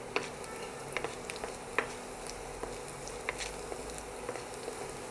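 Garlic and cumin cooking in a pan for Jodhpuri chana dal haveji, giving a faint, steady sizzle with a few small pops and ticks scattered throughout.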